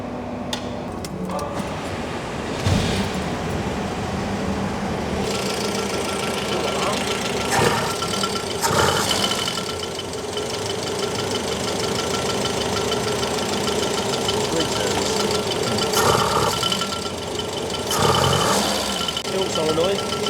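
A rare restored Audi engine running from cold, a steady mechanical rumble with a persistent rough knock throughout, while people talk over it nearby.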